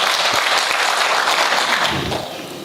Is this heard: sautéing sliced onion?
no